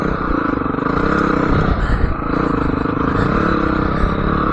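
A motorcycle with no clutch oil rides along near a house, its engine droning loud and steady and close throughout.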